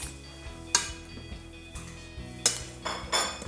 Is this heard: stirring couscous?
yes